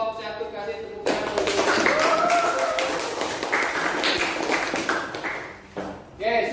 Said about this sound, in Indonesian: Terima kasih untuk kelompok 1, kasih tepuk tangan.